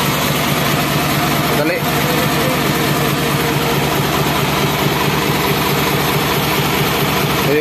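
A truck's diesel engine idles steadily with a low rumble throughout, close and loud, while someone speaks briefly over it during a brake bleeding job.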